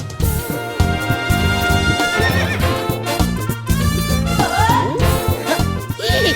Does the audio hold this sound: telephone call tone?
no